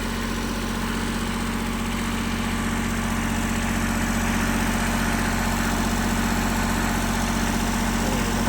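A Kubota L3408 tractor engine idles steadily with a constant low rumbling drone and vibration, unchanging for several seconds, close by.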